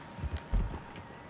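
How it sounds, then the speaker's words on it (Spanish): Horse hooves clip-clopping in the video game Red Dead Redemption 2, a few soft, irregular low thuds close by over a steady background hiss, with no talk. "¿Tú, Trevor, tienes a tu caballo por aquí?"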